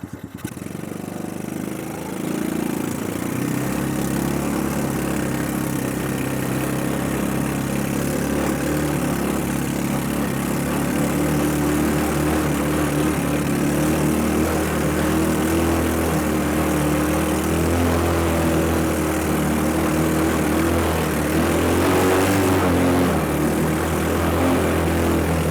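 A mini Jeep's small engine crawls up a very steep hill, a loud continuous droning drone that rises and strains slightly under load, close and unbroken throughout.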